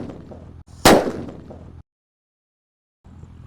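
A Powerman firecracker lit during pre-Ramadan celebrations goes off in a single sharp, loud bang that quickly decays, set against a low outdoor background that drops briefly to near silence afterward.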